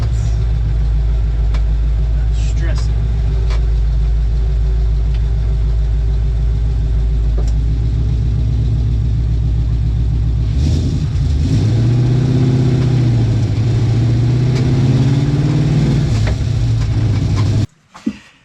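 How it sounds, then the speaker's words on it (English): A Ford Mustang with loose rack and pinion bolts drives along a road, its engine droning steadily from inside the car, then pulling harder midway before stopping abruptly near the end. "So we just drove down the road with the rack and pinion bolts loose."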